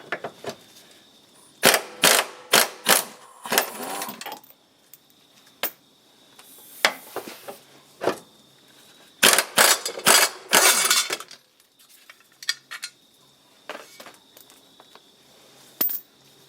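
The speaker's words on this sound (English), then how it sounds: "I've got to get the socket, or the ratchet." A socket ratchet clicks in quick bursts of rapid pawl ticks, separated by pauses and metallic handling noises, while bolts are turned during a tow hitch install on a 2004 Volvo XC70.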